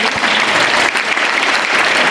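An audience at a school village assembly programme claps steadily, a dense, loud burst of applause that fills the whole moment without pause.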